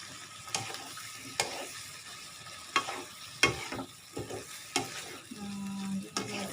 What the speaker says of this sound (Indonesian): Nah, diaduk saja.